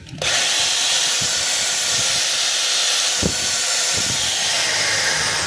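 A repaired Black and Decker KR504RE hammer drill runs steadily in forward after a brief start-up, its loud whirring motor hiss holding constant throughout with a few faint knocks underneath.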